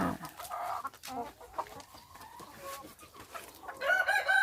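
Several laying hens cluck and crow close by while eating vegetables and grass, with busy overlapping calls throughout and a louder burst of clucking toward the end.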